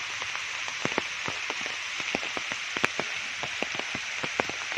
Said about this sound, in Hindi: आवाज़ आ रही होगी आपको, बारिश तेज़ हो रही है आहिस्ता आहिस्ता।